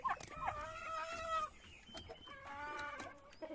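Turkey hen calling inside a chicken coop among other fowl, a pair of quavering, harmonic calls with short clucks between them, close and fairly faint.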